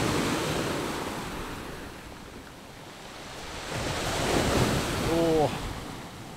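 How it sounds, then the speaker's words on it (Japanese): High ocean waves surge onto a shore on a windy coast near Jaco Island in East Timor, a broad roaring wash rising and falling with strong wind buffeting close by, and a brief voice near the end. "ちょっと波が高いんで、ここ数日ね風が強くて、"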